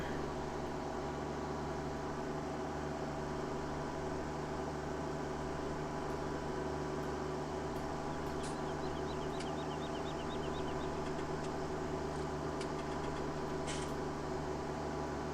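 Tractor engine in Farming Simulator 17, a steady low droning hum that runs evenly throughout, with faint small clicks and ticks toward the end.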